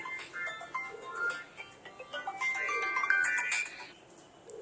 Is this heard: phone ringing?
yes